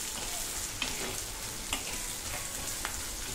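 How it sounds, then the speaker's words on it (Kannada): Onions for onion chutney fry in a pan with a constant, dense sizzling hiss, broken by a few light stirring clicks. "ಈಗ ಇದನ್ನ ಚೆನ್ನಾಗಿ ಕಲಿಸ್ಕೊಂಡು ಫ್ರೈ ಮಾಡ್ಕೊಳ್ಳಿ ಒಟ್ಟಾಗೆ"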